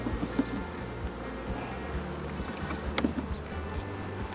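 Honey bees buzzing around an open hive during a walk-away split, a dense, continuous drone of many insects close to the microphone, with occasional louder passes and faint wind.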